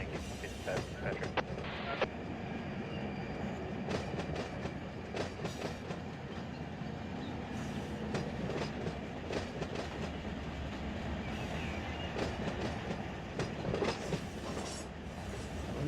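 A moving freight train in the Run 8 train simulator game rumbles steadily with rhythmic clickety-clack wheel beats and occasional sharp clanks, close and continuous throughout.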